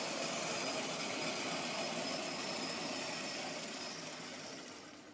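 A model railway diesel locomotive with a pancake motor runs at a station, giving a faint, steady motor whir that slowly fades toward the end as it comes to a stop, with no speech.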